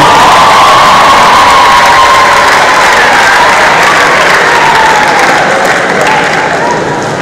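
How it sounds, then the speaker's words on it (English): Loud applause and cheering from a large crowd at a university inaugural lecture, continuous clapping blended with shouts and whoops that fill the space throughout and fade only slightly at the end. "A round of applause."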